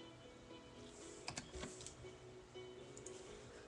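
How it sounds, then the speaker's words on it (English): Someone types on a computer keyboard in a faint, quiet run of irregular key clicks against low room noise, with no voices. "Sorry about that, I was typing."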